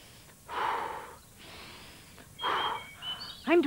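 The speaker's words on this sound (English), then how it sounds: "I'm doing my breathing exercises" Slow, deliberate breathing exercise: a long audible inhale, a softer exhale, then another strong breath ending in a throaty, rising vocal sound, close and with no speech.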